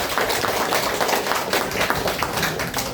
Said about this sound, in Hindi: सभी लोग जोरदार ताली बजाएंगे